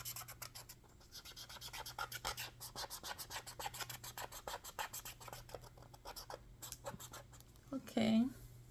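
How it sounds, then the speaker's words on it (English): A Dollar Tree marker scratches across paper in quick, rhythmic rubbing strokes, followed by rubbing as the marks are erased; a brief louder squeak near the end. "we will first use the marker, and then we'll try to erase it"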